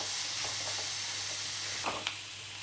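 A paste of green chilli and garlic fries in a pan for soybean bhurji, giving a steady hiss and soft sizzle with a couple of faint stirring scrapes near the end.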